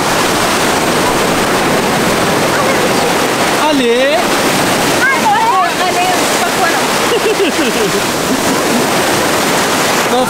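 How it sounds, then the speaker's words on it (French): Ocean waves breaking on a beach rush and roar steadily and loudly, with a voice and brief squeals rising over the surf. "Non, franchement, il y a des belles vagues."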